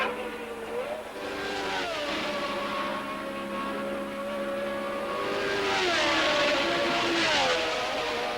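Formula 1 cars of the 1979 Canadian Grand Prix roar past on track, their engine notes rising and falling in long sweeping tones, loud and sustained, with a faint voice in the background.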